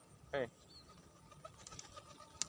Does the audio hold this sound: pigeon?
yes